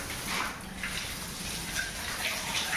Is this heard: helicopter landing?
no